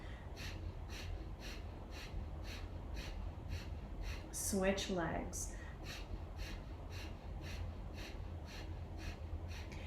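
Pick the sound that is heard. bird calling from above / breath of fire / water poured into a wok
breath of fire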